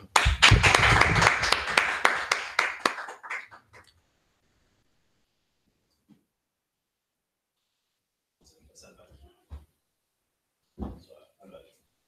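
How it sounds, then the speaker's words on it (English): A gathered audience claps in a brief burst of dense applause that tapers off within about three seconds, leaving near silence broken by a few faint sounds and later some distant talking. "Clap it up."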